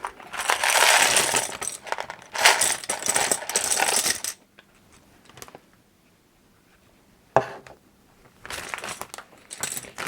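Loose metal keys jingle and clatter as they are dropped into a plastic bag, two dense bursts of rattling, then a pause with one sharp clink, and a further rattle at the end.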